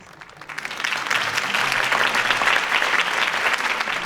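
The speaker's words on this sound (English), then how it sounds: "If only Mr. Wayne, my campaign's largest backer, could have heard that applause" Video game crowd breaks into applause that quickly builds to a dense, sustained clatter of clapping, continuing steadily throughout.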